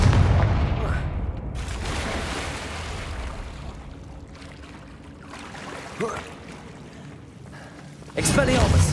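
Confringo blasting spell explosions in the video game Hogwarts Legacy, a loud rumbling burst at the start, a sharp crack near the middle, and another heavy blast at the end, with low booming in between.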